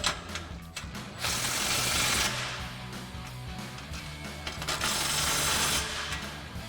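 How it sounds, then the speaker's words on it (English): A power tool or ratchet whirs steadily and close up while tightening an exhaust hanger clamp under a Ford F-150 EcoBoost with a single exhaust system. The sound comes in long sustained runs separated by brief clicks. "We'll go ahead and tighten down our hanger clamp."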